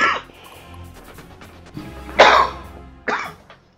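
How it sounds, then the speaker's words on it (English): Several coughs from a person playing the Nephilim Saga game, three harsh bursts spread over a few seconds, close and fairly loud, with no talk. "I do apologize for all the coughing and everything you hear."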